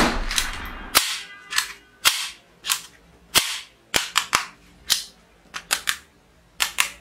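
A small toy cap pistol fires about fifteen sharp cracks at irregular intervals, each bang loud and close with a short fading tail.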